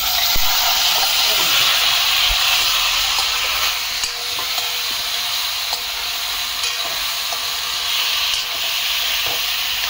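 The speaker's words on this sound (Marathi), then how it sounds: "मोहरी तडतडायला लागली" Mustard seeds splutter and crackle in hot oil, a dense steady sizzle with scattered sharp pops running loud and close throughout, with no talk over it.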